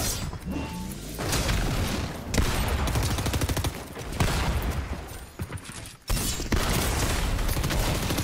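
Rapid, loud automatic gunfire from a Fortnite weapon rattles in dense, continuous bursts with brief pauses between volleys, close and harsh with no talk.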